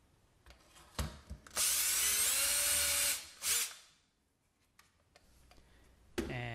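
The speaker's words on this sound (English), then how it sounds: "that's going to hold it in place while I drill my second hole." Power drill boring holes in metal while fitting a boiler element control for distilling and brewing equipment: a few short bursts, then a long loud whirring run and another brief burst, separated by quiet handling noises.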